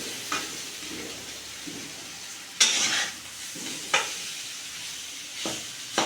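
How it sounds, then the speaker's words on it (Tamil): Curry being stirred in a pan after salt and sambar powder go in, with a steady soft sizzle and several sharp scraping stirs standing out clearly and close, no talking. "உப்பு போட்டு ஒரு பெரட்டம்."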